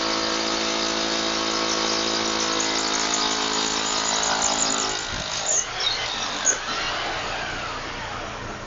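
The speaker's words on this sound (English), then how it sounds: "So we'll drill right through the concrete." A drill boring down through a concrete slab during residential sinkhole repair in Florida, a loud, steady high-pitched grinding whine with harmonic tones that breaks into rougher, uneven chatter midway through.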